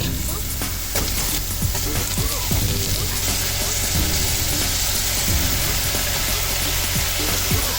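Crumbled plant-based Impossible sausage, taken out of its casing, sizzles steadily in a hot pan, a continuous frying hiss with occasional scraping as it is broken up and stirred.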